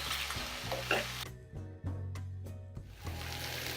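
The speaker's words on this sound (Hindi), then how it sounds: "धनिया पाउडर, तो अच्छे से मिक्स करेंगे।" Sliced okra is stirred in a pan with red chili powder and coriander powder, making a soft sizzle with scraping strokes of a spoon. A steady tonal hum runs underneath.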